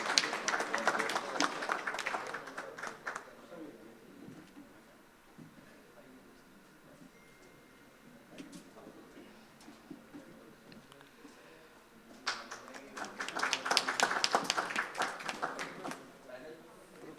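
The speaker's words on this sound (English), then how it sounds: "Can we make a louder applause for him?" An audience at a panel discussion on hospital administration claps for a group medical director, a burst of applause at the start and a louder one near the end, with talking in the quieter stretch between.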